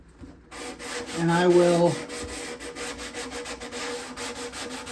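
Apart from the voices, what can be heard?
sanding a guitar lightly with 150-grit sanding block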